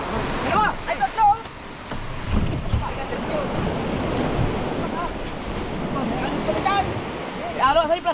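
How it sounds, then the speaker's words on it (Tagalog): Ocean waves surge and wash nearby at night, a continuous rushing roar with wind buffeting the microphone, while several people talk and call out over it. "Ba, malaki ang alon."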